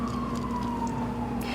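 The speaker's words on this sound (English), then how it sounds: "there's a siren going off" A siren wails steadily outdoors, its tone sliding slowly downward as it carries on in the background throughout.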